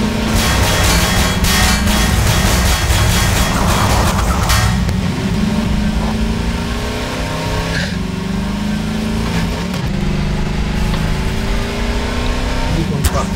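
A steam locomotive engine in Garry's Mod runs as a loud, continuous mechanical drone with a steady chugging texture, while voices chatter over it throughout.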